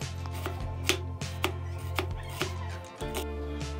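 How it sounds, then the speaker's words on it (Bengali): A knife chops onions on a cutting board for mutton curry, with steady, evenly spaced thuds up close and a constant low hum running underneath. "এবার তাহলে আমরা পেঁয়াজগুলো কেটে নিই।"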